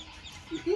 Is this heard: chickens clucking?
yes